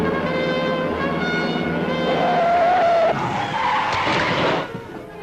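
A car skids with failed brakes, a long loud tire screech that wavers in pitch over engine roar, then fades out, staged as a radio drama effect.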